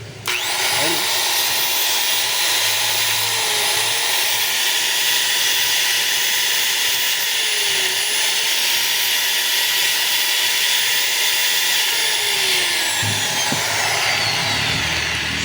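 A DeWalt DW810 4-inch angle grinder runs continuously at full speed, a loud, steady high-pitched whine with a hissing edge that carries unbroken from start to stop.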